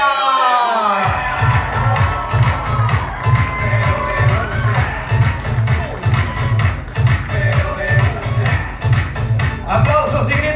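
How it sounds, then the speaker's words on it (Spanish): Crowd applause and cheering for a chambelán at a quinceañera presentation, loud shouts and whoops over pounding rhythmic party music with a steady bass beat. "los aplausos y los gritos para Rafael"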